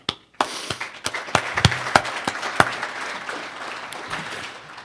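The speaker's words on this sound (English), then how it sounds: "You certainly deserve a round of applause." Audience applause at a hall of fame induction, starting with sharp scattered individual claps that quickly merge into a sustained, moderately close round of clapping.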